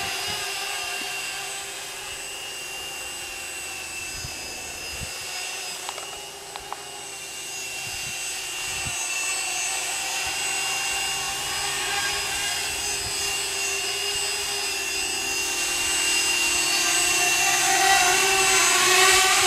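A Spyder prototype drone in flight gives a steady, bumblebee-like buzzing whine that holds throughout and grows slightly louder toward the end, with a few faint knocks underneath.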